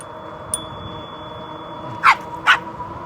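Two quick barks from a dog some distance off, heard while riding an e-bike, over a steady outdoor hum and a faint high whine.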